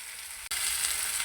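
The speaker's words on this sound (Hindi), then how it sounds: "इसको हम 3 से 4 मिनट फ्राई करेंगे।" French toast sizzles steadily in a little ghee or oil over low heat, a soft continuous frying hiss with one brief break.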